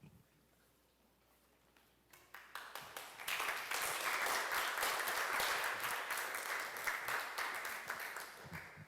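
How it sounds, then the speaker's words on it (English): A symposium audience in a hall breaks into applause after an introduction; scattered claps build quickly into steady, dense clapping that holds for several seconds. "that applause"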